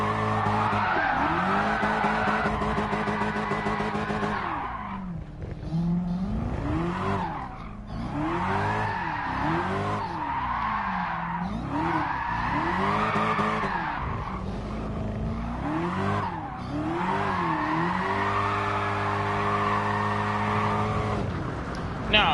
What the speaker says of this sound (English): Yes, your boy getting better at drifting on his wheel.